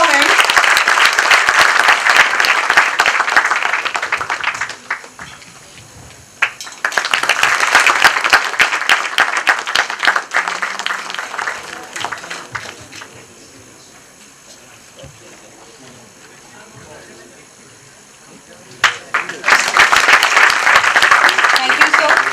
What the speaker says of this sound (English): Please, let's have a great round of applause for him